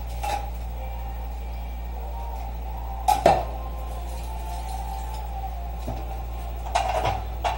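Pots, pans and spoons clatter in a kitchen sink during washing, with a few sharp metallic knocks and scrapes standing out over a steady running hum.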